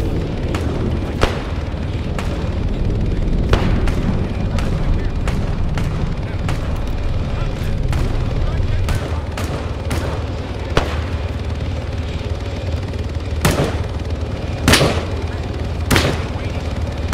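Gunfire in Arma 3, a long series of sharp single shots and heavier booms at irregular intervals over a constant rumbling background, some close and loud, with voices talking beneath.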